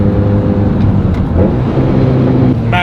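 A Mitsubishi Evo 8 running on a dyno, its engine giving a loud, steady close-up drone with a brief rise near the end.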